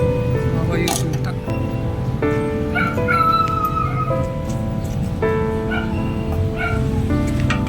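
A puppy whimpers and yips in high, thin cries, with short barks mixed in, close by over a steady low background rumble.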